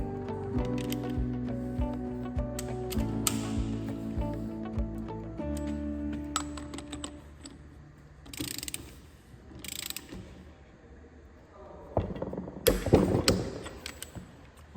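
A ratchet wrench clicks in quick repeated runs while bolts are torqued on a Bornemann SLH-5G pump, with sharper metallic knocks and scrapes near the end.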